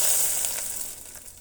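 Hot tempering tipped into a pot of sprouted horse gram sambar gives a brief, loud sizzle that quickly fades away.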